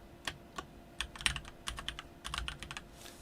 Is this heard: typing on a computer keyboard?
yes